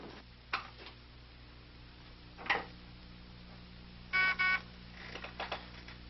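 A telephone number being dialed in an office setting: a few short tick-like tones and a pair of brief steady beeps, with quiet room noise between them.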